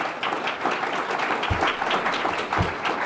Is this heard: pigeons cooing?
no